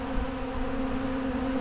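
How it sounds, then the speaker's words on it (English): Swarm of thousands of honeybees settling on the side of a building, a dense continuous buzzing drone that holds steady and fairly loud throughout, with no voices. "Thousands and thousands of bees."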